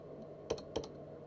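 A few soft keystrokes on a computer keyboard, two quick taps in close succession, faint and close over a steady background hum, with no talk.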